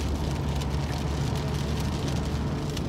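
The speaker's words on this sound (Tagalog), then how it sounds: "Lakas pa rin ang ulan." Steady heavy rain hisses and drums on a car driving on the NLEX expressway while the engine and road noise rumble underneath, with no talking.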